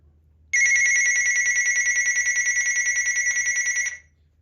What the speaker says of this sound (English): I'll push the button for just a little bit to give it to you what this thing sounds when it beeps